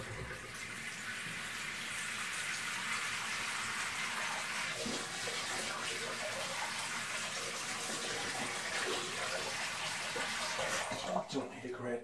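Cold water runs steadily from a tap into a pan holding a corned beef pie mixture, a continuous close gushing stream for several seconds that ends with a few clunks.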